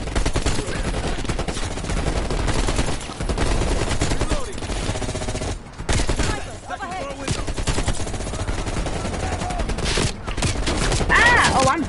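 Gunfire in Call of Duty Cold War, loud sustained bursts of automatic weapons with rapid shots and reload clatter, nearly continuous with a brief lull midway.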